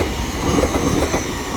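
A Lumo Class 803 electric train, unit 803004, runs through Doncaster station on an Edinburgh-bound service, giving a steady, loud rumble of wheels and traction noise with no talking.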